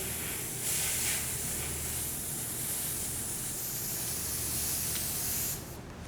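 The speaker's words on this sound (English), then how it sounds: "actually draw the ink out into a fine spray across the surface of your work" A Copic marker airbrush system spraying ink onto artwork, a continuous close airy hiss that swells slightly, holds steady for several seconds, then cuts down abruptly near the end.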